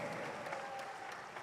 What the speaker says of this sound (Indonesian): boleh kita berikan tepuk tangan yang sangat meriah sekali untuk performance yang luar biasa sekali dari Pak Rocky Pandu